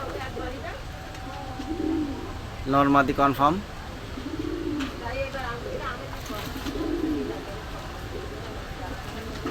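Pakistani pigeons at a shop coo in soft repeated rolling calls, several spaced bursts close by over a faint hiss, while a person talks briefly partway through.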